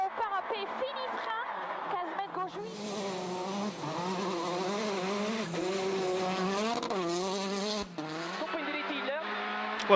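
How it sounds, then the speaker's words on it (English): Peugeot 208 T16 rally car at speed on an ERC Cyprus rally stage, its engine note rising and falling in loud, sustained revs with gear changes under continuous commentary. "the Peugeot 208 T16"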